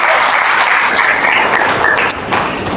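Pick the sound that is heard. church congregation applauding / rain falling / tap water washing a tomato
church congregation applauding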